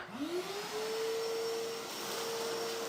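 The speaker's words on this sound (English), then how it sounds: "just vacuuming up some wood chips" A vacuum cleaner sucks up wood chips in a woodworking shop, its motor whining up to a steady high pitch and droning loudly and continuously without any talk.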